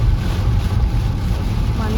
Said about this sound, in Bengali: অনেক বৃষ্টি